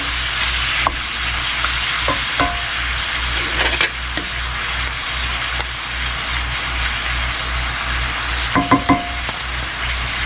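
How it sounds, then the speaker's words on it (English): Ground meat browning in a pan with two packets of McCormick original taco seasoning, a steady broadband sizzle throughout with a few sharp scrapes and clicks of a utensil, close and continuous with no talking. "Elsie's going to continue to brown this meat"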